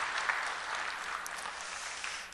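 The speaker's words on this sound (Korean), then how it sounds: "우리 박수로 환영하겠습니다." A church congregation claps in welcome for new members, a soft, brief patter of applause heard from a distance, fairly faint and without voices.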